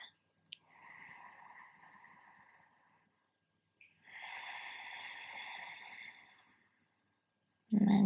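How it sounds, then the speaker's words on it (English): Ujjayi breathing during a yoga stretch: two slow, soft, ocean-like breaths, a long exhale then a long inhale, close and quiet with silence between. "You can make that nice ocean sound, your Ujjayi breath."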